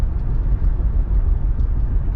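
A 1981 Cadillac Eldorado rolls over rough pavement, a dense low rumble of engine and road noise heard steadily from inside the car, with faint light knocks above it.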